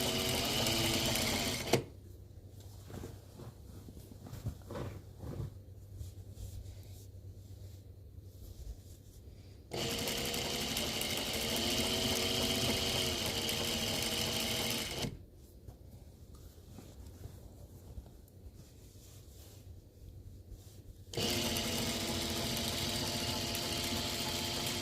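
A sewing machine runs in steady bursts, stitching premade binding onto a quilt loudly for several seconds, pausing to quieter rustling, then starting up again.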